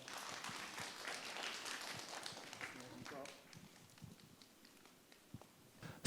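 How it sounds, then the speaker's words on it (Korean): Applause rises from the audience at an arts foundation information session as the chairman is called forward, a moderate clapping patter that thins out after a few seconds into scattered claps, footsteps and murmured voices. "박수 부탁드리겠습니다."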